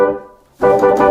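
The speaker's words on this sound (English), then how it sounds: "That was the foot pedal, the sustain." Nord Stage piano's sustain foot pedal: a piano tone fades out, then after a short gap a fresh warm chord rings on, close and alone.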